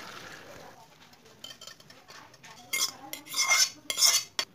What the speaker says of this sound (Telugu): ఒక గిన్నెని తీసుకొని దానిపై ఒక పెద్ద స్ట్రైనర్ ని పెట్టుకొని ఈ సేమియాలను మన వాటర్ తో